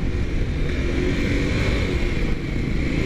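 A 2015 Kawasaki Ninja RR Mono motorcycle engine runs steadily under throttle while being ridden, a dense, continuous buzzing drone with wind rush, loud and close throughout.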